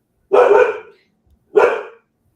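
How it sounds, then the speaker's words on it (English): Two loud, close dog barks spaced about a second apart, sharp and deep, with silence between and after them. "I don't know what he's barking at right now"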